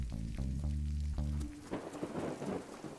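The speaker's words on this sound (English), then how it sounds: "Tis absolutely raining, cats and dogs, as they say" Heavy rain pours steadily, preceded by a deep rumble of thunder that fades into the dense hiss of falling water.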